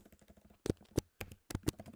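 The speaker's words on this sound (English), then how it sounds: "I've been typing a long time" Typing on a computer keyboard while writing Java code, sharp key clicks in uneven bursts with a few louder strikes, close up and with no talk.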